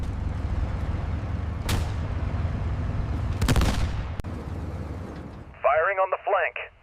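Tank cannon and machine-gun fire in a World War II video game battle with M18 Hellcat tank destroyers against Panzers: sharp gunshot bursts over a constant engine rumble, with a short radio-like voice at the end.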